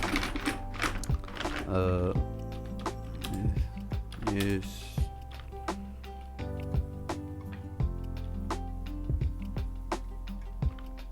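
Keys tapped on a computer keyboard while entering text in Adobe Illustrator, producing a run of close, irregular clicks with a voice talking over them.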